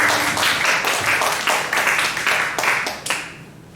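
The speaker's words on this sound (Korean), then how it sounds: "우리 주님께 영광의 박수 올려드리겠습니다." A church congregation claps together in praise, the hand claps arriving in rhythmic bursts that thin out and fade toward the end.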